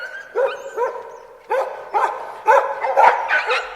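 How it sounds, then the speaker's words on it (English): Several caged dogs bark in a 1998 abridged audiobook dramatisation of an Enid Blyton Secret Seven story: a string of sharp, close barks and yips in uneven bursts, with no talking over them. "6 dogs in cages!"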